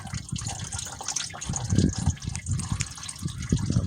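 Engine oil gushes from a hand-loosened truck oil filter, a close, lumpy splashing and gurgling pour that surges irregularly over a few seconds.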